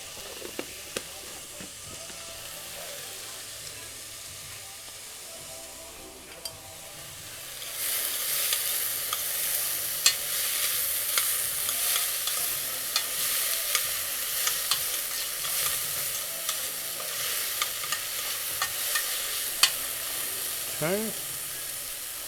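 Garlic hits a hot pan for butternut squash soup, a faint quiet stretch giving way to a loud, steady sizzle with scattered crackles and spoon scrapes; a brief word is spoken early on.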